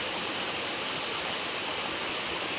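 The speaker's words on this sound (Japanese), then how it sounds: "目の前が川、小さい川ですね。 膝ぐらいまでの" A small knee-deep river flows past a campsite in Shimizu, Hokkaido, giving a steady, even rushing hiss of water with no pauses, close and moderately quiet.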